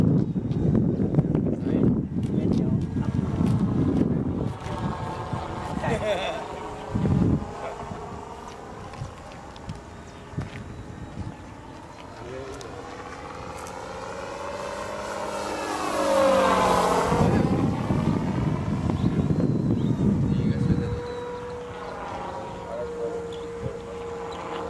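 A TBS Mini sound module plays simulated engine sound on a P-40 model aircraft, a droning propeller-like roar that rises and sweeps in pitch, with people talking at times over it.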